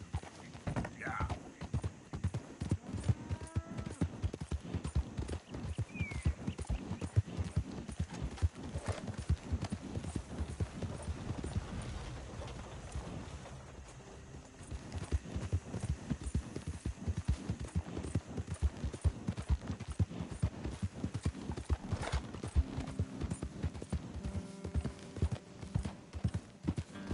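Horse hooves in a PS4 video game clop in a rapid, steady galloping rhythm for the whole stretch, with occasional whinnies and voices talking faintly underneath.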